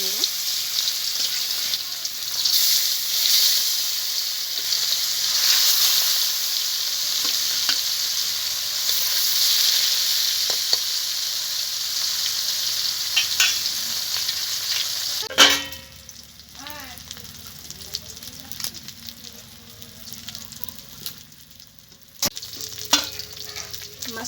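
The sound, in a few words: fish frying in hot oil in a pan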